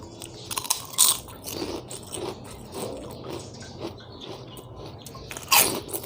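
Homemade potato crackers bitten and chewed up close, a few sharp crunches at the start and end with softer chewing crackles between, quiet and without talk.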